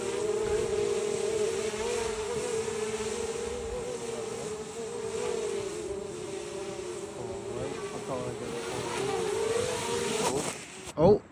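A 3D printed ESP32 drone with 3D printed propellers lifts off outdoors over grass, giving a loud, steady, close insect-like buzzing hum that ends in a sudden clatter.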